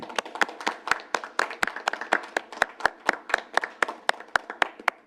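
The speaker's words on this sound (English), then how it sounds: "I'm going to ask that we give Rashida a round of applause." A single person or a few people clap at a steady, brisk pace at a public meeting of a transportation task force, each sharp hand strike distinct and close, about twenty claps in a row.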